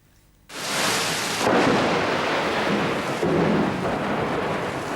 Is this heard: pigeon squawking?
no